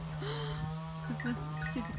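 Several short bleats from sheep and farm animals at a village, including a newborn lamb's flock, near and moderately loud, with a steady low hum underneath.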